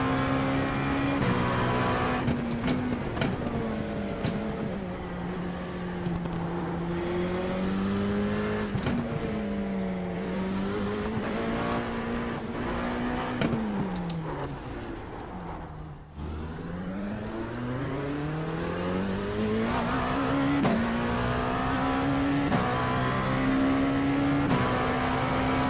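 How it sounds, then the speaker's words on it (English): NASCAR race cars lap Auto Club Speedway in California, their engines a continuous loud roar with rising and falling pitch as cars pass, and one sharp dip in the middle as a car sweeps by. "How mean does these cars sound?"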